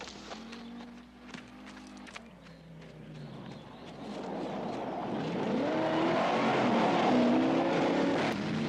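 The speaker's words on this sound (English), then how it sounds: "I hear a car coming." A car approaches on a rural road, its engine and tire noise swelling louder and nearer over several seconds after a quieter stretch with a low musical tone.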